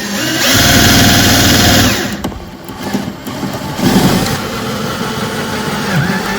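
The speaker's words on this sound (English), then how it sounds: "Bloody got excited and drilled the head off that screw." A power drill whirs loudly for about two seconds drilling out a Phillips screw on a battery, then cuts out, followed by quieter clicks, handling noise and a low motor hum.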